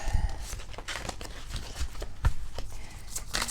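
A tarot card deck being shuffled by hand, heard up close as soft papery riffles and crinkling rustles with a few sharper card slaps, no talking over it.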